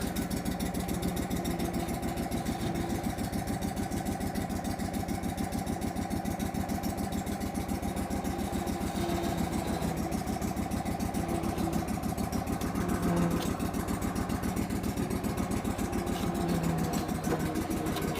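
A Hurricane blower engine runs steadily at idle after a cold start, a constant mid-pitched mechanical drone with a rapid firing pulse and no throttle changes, close and alone.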